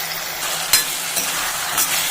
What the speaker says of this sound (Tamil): நல்லா வதக்கி வெந்துடட்டும் எண்ணெயிலே வேகட்டும்